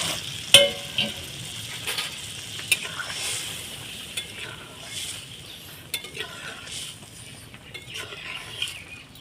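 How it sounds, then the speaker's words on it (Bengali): Boiled lentils and a little water poured into frying spices in a pan, close sizzling with repeated spoon clinks and stirring knocks against the vessel, no talk. "এবারে আমার এই সিদ্ধ করে রাখা ডালটাকে আমি এইভাবে দিয়ে দিলাম দেখুন বন্ধুরা আর একটু আমি জল দিয়ে দিলাম"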